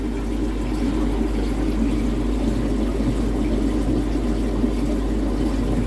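A koi pond filter runs nearby, a constant low mechanical hum with steady watery churning, loud and unchanging throughout with no talking.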